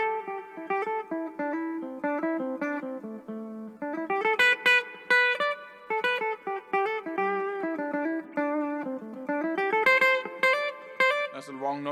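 A clean, bright melodic line of plucked or picked notes moves up and down a pentatonic scale in a steady, flowing phrase, played solo.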